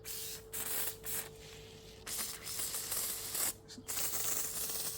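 Bursts of underseal spraying from an aerosol can under a Ford Focus ST225, a hissing rush that starts and stops several times with short gaps between, close by.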